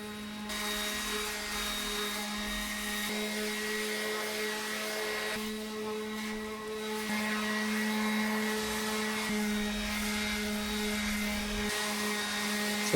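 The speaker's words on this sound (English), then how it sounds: "And now I move to the orbital palm sander here. I'm starting with 120 grit" An orbital palm sander with 120-grit paper works over a 2x4 wooden farm bench, giving a steady buzzing hum with a strong tonal drone that rises and falls slightly as pressure shifts, continuous and close for the whole stretch.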